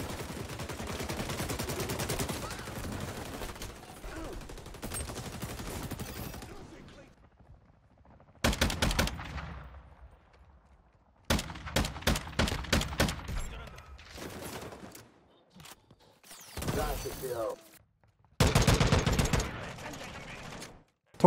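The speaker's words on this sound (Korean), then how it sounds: "기본적으로 총성이 호쾌한 것도 아닐 뿐더러 실내에서 총을 쏠 때 발생하는 울림이 없습니다." Bursts of rapid gunfire from the video game XDefiant crackle in clusters, with quick repeated shots separated by brief quiet gaps, sounding crisp and dry without echo, lacking indoor reverberation.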